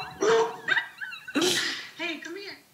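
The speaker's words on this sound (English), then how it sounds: "my dog's barking" A house dog barking indoors, with several close, loud barks and yelps in an uneven sequence that mix with a person's voice.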